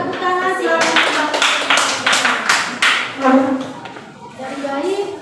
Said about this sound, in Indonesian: tepuk tangan silakan